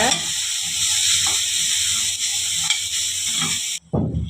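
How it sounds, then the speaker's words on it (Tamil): Sliced potatoes sautéing with onion in a pan make a loud, continuous close sizzle with occasional stirring scrapes, then the hiss cuts off abruptly near the end. "நம்ம சீவி வச்சுருந்த அந்த உருளைக்கிழங்கு இதில் சேர்த்துக்கலாம். இதையும் நல்லா வதக்கி விட்டுக்கோங்க."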